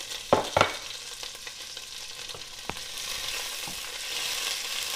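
Chopped capsicum sautéing in a pan for chili chicken, a steady close sizzle broken by sharp clinks and scrapes of stirring, with no voices.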